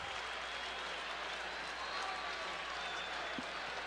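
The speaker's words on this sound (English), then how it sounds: "A capacity crowd here at Busch Stadium on a cool, crisp evening. And they're rooting for the Redbirds." Capacity baseball crowd at Busch Stadium during the 1982 World Series Game 7, steady distant applause and cheering filling the stadium on a cool evening, with faint announcer talk beneath.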